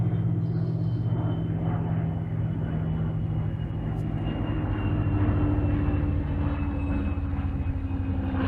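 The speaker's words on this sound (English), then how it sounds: "I've got a Boeing 747 flying overhead." A Boeing 747 passes overhead as a loud, steady low-pitched engine roar that fills the whole stretch without fading.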